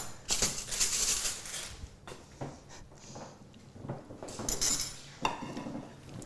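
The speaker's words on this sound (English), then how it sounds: "So I'm going to give this a good stir." Spoon scraping and clinking against a bowl while hummus is stirred, close and fairly quiet, with irregular bursts of scraping and knocking against the sides and bottom.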